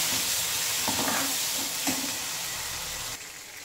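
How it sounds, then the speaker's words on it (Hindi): Chopped tomato drops into hot oil with browned onions for a plain potato and bean curry, giving a loud, steady sizzle and hiss throughout, with a few soft stirring scrapes. "प्याज लाल हो गया है, इसमें मैं एक कटा हुआ टमाटर डाल देती हूँ।"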